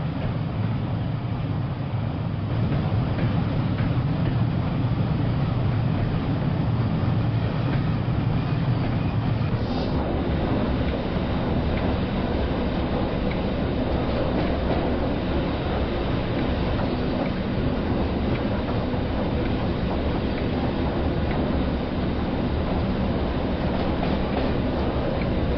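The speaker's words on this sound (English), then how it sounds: "We will continue into Platform 1 at Penzance with our rake of Mark II coaches" Train Sim World 4 train with a rake of Mark II coaches rolls steadily into the platform at Penzance, a continuous rumble of wheels and carriage noise whose low drone shifts partway through.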